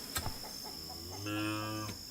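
A single drawn-out cow moo, close and fairly loud, rising after a couple of brief knocks and holding steady for under a second before cutting off; a voice may be imitating the animal.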